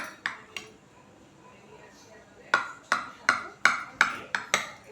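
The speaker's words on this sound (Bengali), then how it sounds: "দেখুন কেকগুলো আমি কেটে নিচ্ছি" A knife slices a one-egg vanilla cake into pieces, starting with a few sharp taps, then after a quiet pause a rapid run of crisp clinks as the blade strikes the pan or plate beneath.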